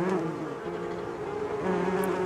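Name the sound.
loud buzzing of a swarm of wasps, story sound effect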